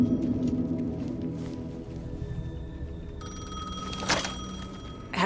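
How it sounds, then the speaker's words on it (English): A payphone rings in Alan Wake 2 with a bright repeated bell tone over a low ambient drone, growing clearer partway through, with a sharp burst near the end. "The payphone was ringing."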